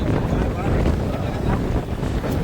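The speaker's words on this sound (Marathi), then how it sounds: "वारा भरपूरच आहे बघा" Strong early-morning wind buffets the microphone outdoors, a loud continuous roaring rumble that fills the whole clip with no pauses.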